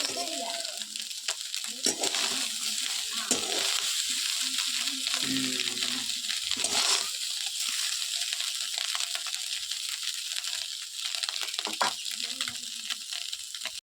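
River fish frying in hot oil in a home kitchen, a steady bright sizzle and crackle running throughout, with occasional stirring clinks and a person talking over it.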